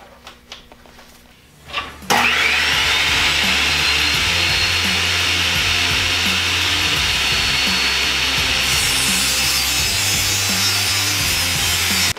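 A power saw bites into old barnwood with a sudden loud whine that holds steady as the cut continues up close, after a few quiet handling sounds at the start.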